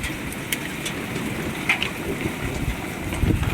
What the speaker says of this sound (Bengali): এই বৃষ্টি জল পড়ছে